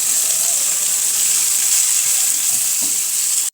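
Green chilli and bay leaf frying in a hot pan give a loud, steady sizzle that holds evenly throughout with no voices over it.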